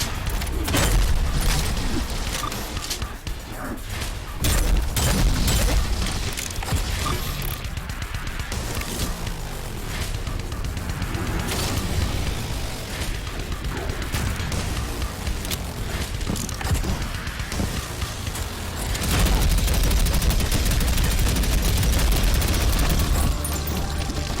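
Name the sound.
quad shotgun firing in video game Prodeus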